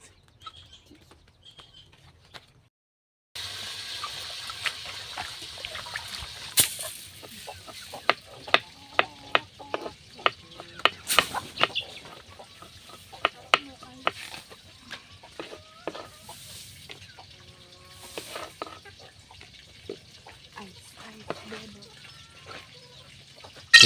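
Eggplant and string beans stirred in a pan, with repeated sharp clicks and scrapes of a utensil against the pan over a low sizzle, close by, while a voice talks intermittently.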